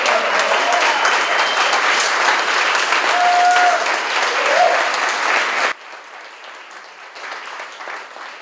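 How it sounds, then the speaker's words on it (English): An audience at an artists' talk event featuring New Mexico artists applauds loudly and steadily, a dense wash of clapping that cuts abruptly to a quieter patter of scattered claps. "How about another big round of applause for all of you?"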